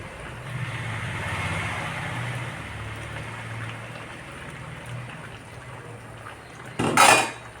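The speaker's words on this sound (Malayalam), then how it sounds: "നമുക്ക് നന്നായിട്ടൊന്ന് മിക്സ് ആക്കി കൊടുക്കാം" A chicken and ash gourd curry with roasted coconut masala is stirred in a pot, a soft continuous scraping and mixing under kitchen hum, ending in a brief louder clatter of a utensil against the pot.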